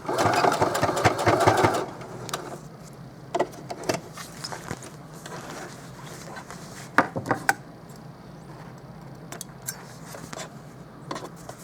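A sewing machine back stitching a Dollar Tree placemat pouch, a brief loud run of stitching at the start followed by quieter scattered clicks and taps.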